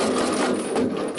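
A 1952 Ford 8N tractor's starter cranks in a fast, steady mechanical whir, loud and close, for a brief moment without anyone talking.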